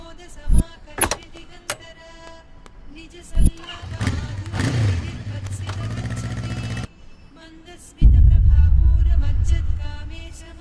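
A motorcycle engine sputters and catches, then settles into a loud, steady idle after a few scattered knocks and clicks.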